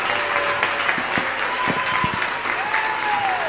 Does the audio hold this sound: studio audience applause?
yes